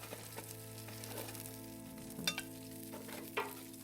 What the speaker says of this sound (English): About time to flip these burgers.